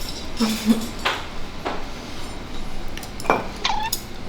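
A fork and knife clink and scrape against a plate during a steak meal at home in Mexico, with a few distinct metallic taps spread across the moment and a faint voice in the background.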